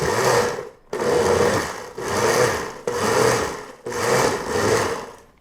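An old countertop blender pulses tomato basil soup in five close, loud bursts of whirring motor and churning liquid, each about a second long and separated by brief pauses.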